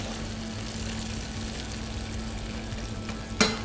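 Blanched asparagus sizzles steadily in a hot pan in a hotel kitchen, a close, even frying hiss with one brief louder clatter near the end.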